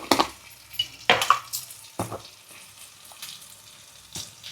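Turmeric and chili powder frying in hot oil for a homemade chicken curry, heard close as intermittent bursts of sizzling with stirring scrapes between them.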